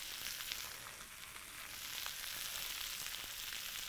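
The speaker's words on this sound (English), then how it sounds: "So now I'm going to go in with a little bit of cumin seeds." Cumin seeds sizzling in a hot pot, a steady close hiss of frying with faint crackles, no talking.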